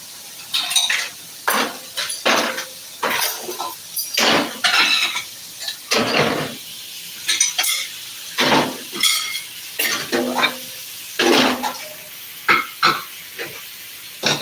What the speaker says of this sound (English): wash dishes